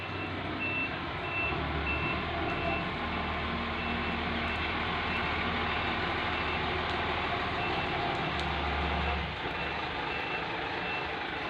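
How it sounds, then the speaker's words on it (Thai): A heavy vehicle, likely a truck, rumbles steadily and loudly through a flooded rural road in Surin, Thailand, with continuous engine drone and no talk. "รถจะไปจะมาสัญจรไปมาตรง เนี้ย ต้อง ลุยน้ำกันหน่อยนะครับ"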